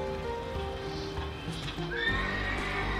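Creatures in the video game Legend of Dragoon neighing like horses, a horse whinny with hoof clip-clop and game music underneath, fairly quiet.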